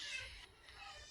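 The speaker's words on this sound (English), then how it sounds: "pretty sure you guys can hear my kids outside." Children playing outdoors with a young boy who often screams, heard faintly at a distance as a steady, quiet backdrop of kid voices and activity.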